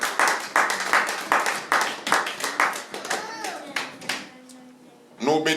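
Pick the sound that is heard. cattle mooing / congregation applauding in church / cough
congregation applauding in church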